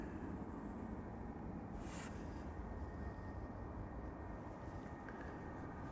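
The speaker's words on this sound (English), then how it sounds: "This is KLM flight 627 going to Miami, Florida. A330-300." KLM Airbus A330-300 airliner at Amsterdam Schiphol Airport, heard as a steady, broad jet roar that holds constant throughout without pauses or voices.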